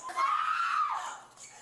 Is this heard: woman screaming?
yes